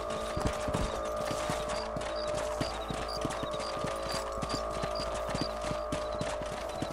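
Horse hooves clip-clop at a steady walking rhythm in the Western video game Red Dead Redemption on a ranch, close and continuous over a constant ambient hum and faint background music, with no talk.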